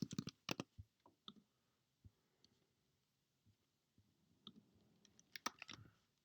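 Typing on a computer keyboard, sparse scattered key clicks and short bursts of tapping, close but quiet, with long gaps between strokes and a denser cluster toward the end.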